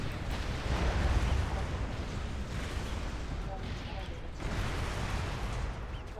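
Mech weapons firing in MechWarrior Living Legends, a dense, continuous rumble of booming blasts and explosions with little break.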